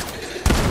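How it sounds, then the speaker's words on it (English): A single loud, sudden shotgun blast from the video game Fortnite cuts in abruptly after a brief moment of low background noise. "Got a shotgun to the face at the same time"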